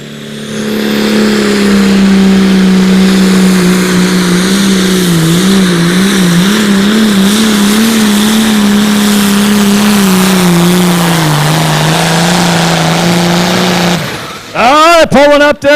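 A light limited pro stock pulling tractor roars at a 2018 outlaw tractor pull in Concord, Nebraska, a loud sustained engine drone with wavering pitch through a long pass, then sharp revs at the end.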